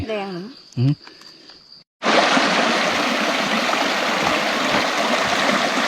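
A mountain stream pours steadily at a riverside spot below a hill, making a loud, continuous rushing wash that starts abruptly after a brief stretch of voices.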